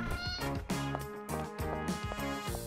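Repeated cat meows come in a quick series of bright, harmonic calls with brief gaps between them, close and fairly soft, with no speech.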